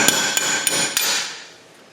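Four sharp hammer blows in a steady rhythm, close and loud, driving rear wheel studs out of the hub on a Dodge Dakota, the metallic ringing fading away after the last strike.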